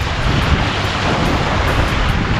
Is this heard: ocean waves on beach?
yes